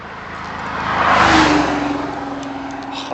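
Amateur rally car, apparently an old Porsche 911, revving as it approaches and sweeps past on a Mont Ventoux road, engine note swelling to a loud peak mid-pass then fading with a rough, pulsing drone.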